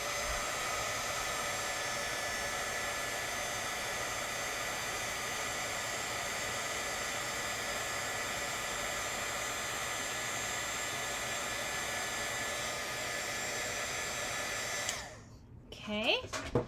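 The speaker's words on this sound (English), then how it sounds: "Then I do have my heat tool right here," An embossing heat gun blows hot air in a loud, steady whoosh close by, holding constant for most of the time before switching off and spinning down near the end.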